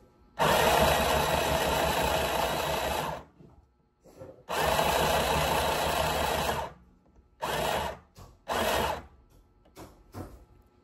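A small sewing machine runs in several bursts, a long steady whir, a pause, another long run, then shorter quick stitching spurts near the end.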